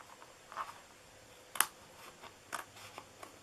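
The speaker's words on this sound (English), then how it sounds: "It helps to have really good scissors for this." A few sharp, isolated snips of scissors cutting paper for a heart-handled treat box, close and quiet, spaced irregularly over a soft background hiss.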